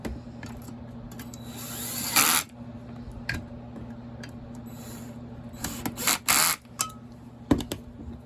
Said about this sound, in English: I've got the clutch on that screw gun set relatively low